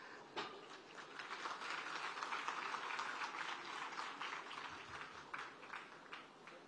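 Crowd applause at a public event in Nagpur welcoming Union road transport minister Nitin Gadkari, a dense, steady clapping that fills the whole stretch at moderate distance with no talk over it.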